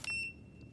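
A keycard swiped at a reader in the horror game Tormented Souls 2 gives one short, sharp electronic beep, clean and high-pitched, fading quickly into a quiet room tone.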